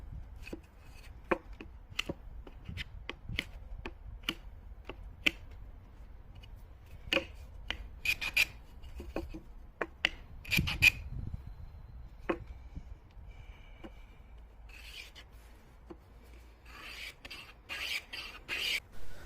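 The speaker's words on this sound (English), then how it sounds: "Once I'd cut it, I just chamfered all the edges, and this is just to take all the sharp edges off." Repeated short scraping and clicking strokes of a hand tool chamfering the edges of a wooden wedge, irregular in rhythm, close and moderately loud, growing busier toward the end.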